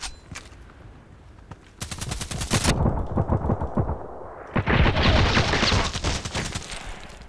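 Assault rifle gunfire in the online shooter Contract Wars, with a B-Zone rifle in use: a few single shots, then a long loud automatic burst, a brief lull and another extended volley, close and sharp with no talk.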